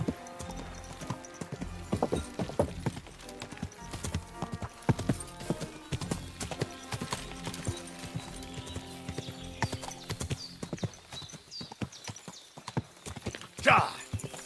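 Horse hooves clip-clop steadily across the ground in Kingdom Come: Deliverance II, close and prominent, with a horse whinnying briefly near the end amid game sounds and voices.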